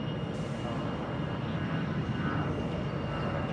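A Cambodia Airways airliner departs Bangkok Suvarnabhumi Airport, heard as a steady, fairly loud broadband jet roar that fills the whole stretch without a break or any talk.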